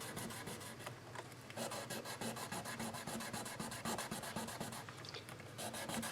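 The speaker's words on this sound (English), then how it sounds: "So I've got some 1200 grit sandpaper, and I'm just going to hit these" Rapid back-and-forth rasping of 1200 grit sandpaper rubbed over the frets of a Cort X-2 electric guitar, close and fairly quiet, a dense rhythmic scrubbing that runs throughout with no talking.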